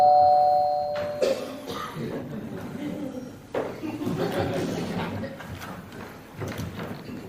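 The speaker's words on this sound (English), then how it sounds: "In 30 seconds, the doorbell will ring" A doorbell rings during an amateur theatre-group stage play, a two-tone chime near the start, followed by audience chuckles, footsteps and stage movement in a hall.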